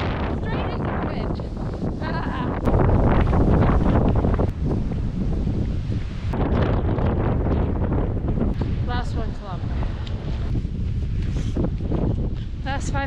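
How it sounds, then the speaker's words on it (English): Loud, steady wind buffeting the microphone while cycling hard into a headwind during a triathlon bike leg, a continuous broadband roar with gusty swells throughout. "Straight into the wind."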